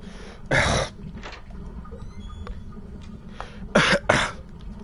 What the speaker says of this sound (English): trying to clear my throat